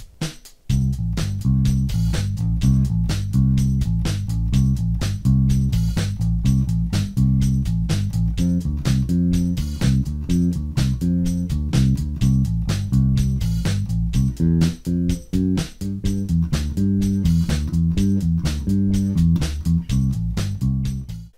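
Bass guitar playing a riff over a drum track, steady driving notes with sharp drum hits throughout, loud, close and continuous with no voices.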